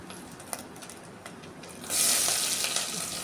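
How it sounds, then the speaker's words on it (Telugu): Washed dried prawns fry in oil in a pan, a soft background hiss that swells partway through into a loud, close, steady sizzle. "ఫస్ట్ ఎండ్రాయిల్ చక్కగా ఇలా వేపుకోవాలండి"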